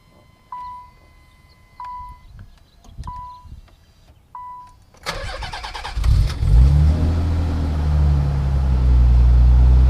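A Nissan 300ZX Z32 has its key turned through several chimes and clicks, then its engine cranks and fires up loudly, settling into a strong, steady idle close by.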